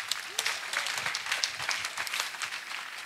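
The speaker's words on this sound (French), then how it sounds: "Acclamation à Jésus-Christ." Congregation at a New Year's wishes gathering claps in a lively burst of uneven, crisp hand claps, with a few voices calling out over the applause.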